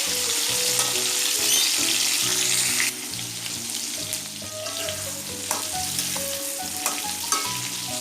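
Oil sizzles steadily in a pan as ingredients are fried half-done for sambal setan, a dense continuous crackle with soft stirring scrapes throughout, close and fairly loud, no voices.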